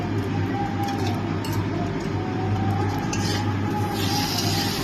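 Tomato and green chillies fry with onions in a pan, a steady dense sizzle with faint clinks of a utensil throughout, no talking.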